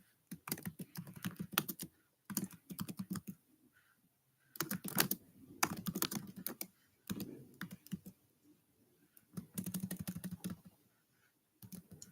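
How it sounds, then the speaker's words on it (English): Bursts of typing on a computer keyboard, with rapid clicking keystrokes arriving in several clusters separated by short pauses, fairly close and clear with no talking. "I gotta type up the..."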